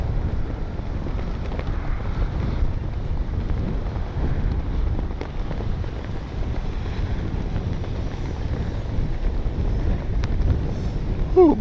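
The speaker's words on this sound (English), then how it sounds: "Ooh, boy, is it windy." Strong wind buffets the microphone outdoors at an RC flying field, a constant low rumbling roar that fills the whole stretch without pause.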